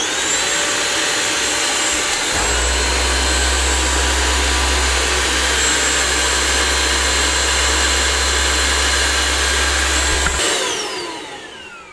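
A Bissell CrossWave wet floor cleaner with a repaired roller runs loud and steady, a strong motor drone with airy whine that holds for about eight seconds and then cuts off, leaving a fading hum.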